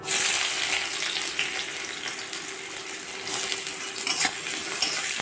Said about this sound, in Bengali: আমার পেঁয়াজটা একটু একটু ভাজা হয়ে গেছে